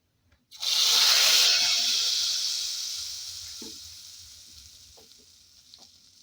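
Hot oil with chili flakes and dried mint bursts into a loud sizzle in a pan for tarhana soup, hissing strongly at first, then slowly fading while a few faint clinks sound near the end.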